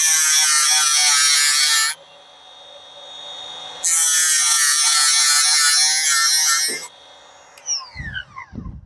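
A multi-tool blade ground on a Tigersteeth sharpener, giving two loud, steady high-pitched grinding bursts of about two and three seconds separated by a quieter motor hum, then a few scraping clicks and handling sounds at the end.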